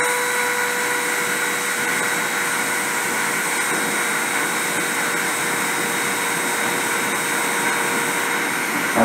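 CNC spindle spun up to 30,000 RPM for deposition work, giving a loud, constant high-pitched whine with steady tonal hum and no variation or talk.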